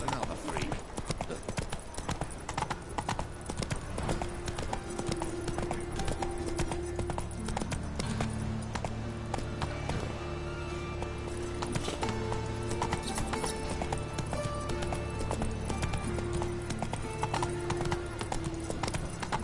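Roach, Geralt's horse in the game The Witcher 3: Wild Hunt, clip-clops along in a steady rapid hoof rhythm throughout, with an occasional whinny and game music and ambience underneath.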